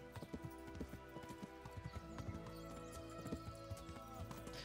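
Horse hooves clip-clopping in the medieval game Kingdom Come: Deliverance, a steady run of close, distinct hoof strikes with a brief whinny, heard over game music and ambience.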